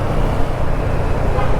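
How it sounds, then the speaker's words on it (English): Dense night traffic on a Ho Chi Minh City street, a steady close wash of engine rumble and road noise with a faint horn toot, no pauses. "The traffic's still quite heavy."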